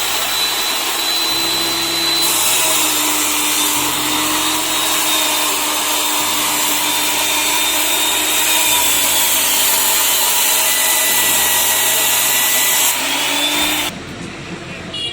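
A power tool drones loudly and steadily while cutting metal strips into six-inch pieces, a sustained whirring with slight pitch shifts that cuts off abruptly near the end.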